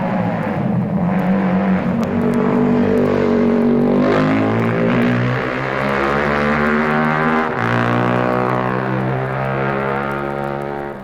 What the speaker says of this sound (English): Here's another MV, a 250 twin this time, ridden by the brilliant Tarquinio Provini